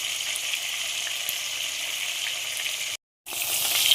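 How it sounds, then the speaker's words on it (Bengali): Rohu fish pieces fry in hot oil, a steady close hiss and sizzle that runs unbroken, cuts out briefly near the end and then resumes. "আমি আর একটু এরকম উল্টো পাল্টা করে ভালো করে মাছগুলো আমি ভেজে নেব"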